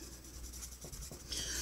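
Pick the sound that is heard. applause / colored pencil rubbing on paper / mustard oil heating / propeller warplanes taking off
colored pencil rubbing on paper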